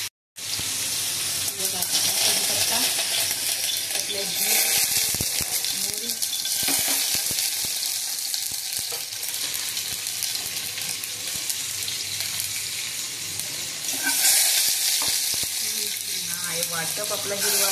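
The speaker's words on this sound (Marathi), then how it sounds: "वाटप आपला हिरवा वाटलेला. छान असा तेलात परतून घ्यायचा." Green ground masala paste frying in hot oil for a Marathi fish curry, a continuous bright sizzle with occasional stirring scrapes, loud and close, running steadily without speech.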